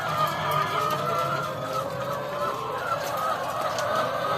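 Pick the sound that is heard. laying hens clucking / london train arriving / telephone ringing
laying hens clucking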